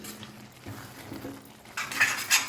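Tomato and red chilli chutney stirred from the bottom of a pan, with soft scraping and clinking of a spoon against metal, growing louder and more distinct toward the end.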